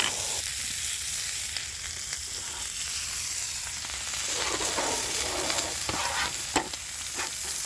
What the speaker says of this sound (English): I know the steak is obviously still cooking.